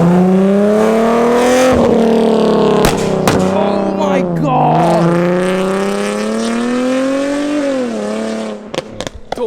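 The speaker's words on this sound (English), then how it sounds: "I really want to hear this car from the outside" Very loud exhaust from a modified Nissan 370Z revs outside, a sustained raspy drone rising and falling in pitch with sharp pops, and a brief excited shout near the end.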